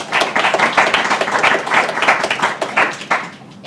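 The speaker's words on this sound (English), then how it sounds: "So can we give them all a round of applause?" An audience at a writing and editing panel gives a round of applause, a sustained, close burst of many hands clapping that holds steady for several seconds.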